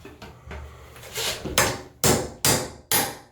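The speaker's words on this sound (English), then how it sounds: "I dug up my big old screwdriver, got it in there and popped that side off" Sharp metallic knocks and pops as a big flat screwdriver pries a bathroom exhaust fan cover off the ceiling, with a few softer taps first and then four loud, evenly spaced cracks, close and with no talking.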